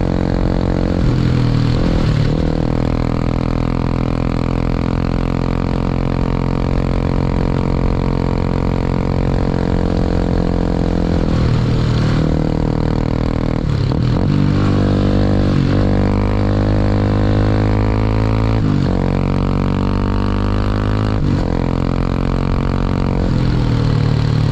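A Honda CRF300 Rally motorcycle runs steadily while ridden off-road, its mid-pitched engine droning loud and close for the whole stretch, with repeated brief dips and rises in revs as the throttle is rolled off and on.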